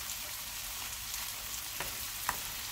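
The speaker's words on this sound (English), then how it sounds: "So I'm dumping the greens in here" Callaloo greens tipped into a hot pan of vegetables for Jamaican steamed fish, a steady loud sizzle and frying hiss with a few soft stirring knocks, no voices.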